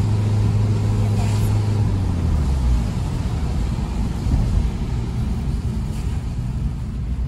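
A car engine rumbles steadily while driving, its low drone falling in pitch as the driver downshifts, with a voice talking over the engine throughout.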